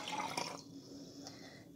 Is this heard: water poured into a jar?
yes